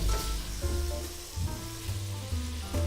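Meat cooking in a pan gives a continuous close sizzle and crackle, with faint tonal sounds lingering underneath and no one speaking.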